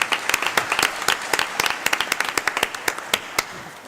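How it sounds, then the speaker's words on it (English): An audience at a ministerial roundtable conference applauds the panelists, a thinning round of clapping with distinct individual claps standing out as it winds down. "I would like to ask you for a round of applause for these really great panelists for being here."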